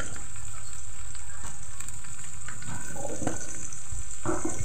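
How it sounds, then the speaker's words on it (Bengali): Onions and spices fry in hot oil in a pan, giving a constant close sizzle and hiss with occasional stirring clatter. "আমি তো এখানে পেঁয়াজ আর মশলা তো ভাজে নিচ্ছি"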